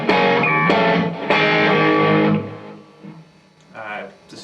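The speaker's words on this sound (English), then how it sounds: "next up is a standard overdrive sound" An electric guitar plays through an OCD overdrive pedal with a bit of panning delay, giving a loud, gritty, sustained chord tone that cuts off and then rings out more quietly with a further strum.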